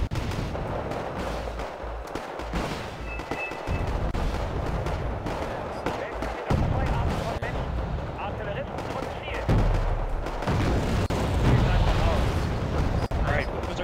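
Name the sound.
artillery fire in Wargame video game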